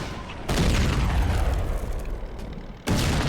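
Bombs explode in the video game Warplane Inc., a loud, continuous rumbling blast that swells and lingers, then a fresh boom hits near the end.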